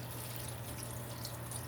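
Water pours into a pot of chicken and cabbage soup, a quiet, steady splashing stream lasting under two seconds with no talk.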